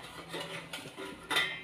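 Dishes, pots and pans clink and clatter in a home kitchen sink being washed after cooking, with a sharper clatter near the end over a steady running-water hiss; no talking.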